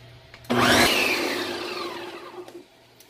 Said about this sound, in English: Now this blender blends everything up beautifully.